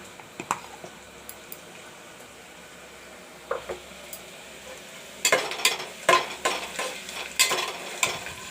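Onions sizzle and fry in a pan for matar aloo, quiet at first, then louder with scattered clinks and scraping as they are stirred.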